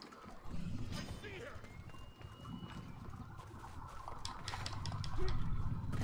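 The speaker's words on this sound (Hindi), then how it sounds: "ये वैसे मेरा घोड़ा नहीं है।" Galloping horse in Assassin's Creed Odyssey: rapid, steady hoofbeats that build louder toward the end, mixed with game sounds and someone talking over them.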